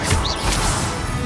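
In Hogwarts Legacy, an Expelliarmus spell is cast in combat, producing a brief, loud whooshing crash burst with a sharp impact.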